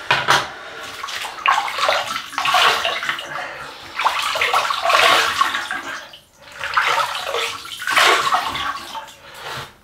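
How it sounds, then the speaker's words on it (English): Water splashes and sloshes in repeated bursts as a face is wetted before a wet shave with a 1958 Gillette Super Speed Blue Tip safety razor, close and fairly loud with brief gaps between scoops. "We'll wet the face and we'll get going."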